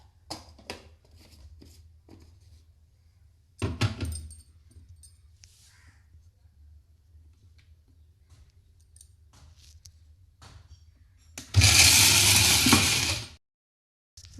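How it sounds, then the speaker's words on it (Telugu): After quiet kitchen clicks and handling noises, a household mixer grinder runs in one loud, dense whirring burst that lasts about two seconds and then cuts off sharply. "ఇప్పుడైతే మిక్సీ వేసేస్తున్నానండి."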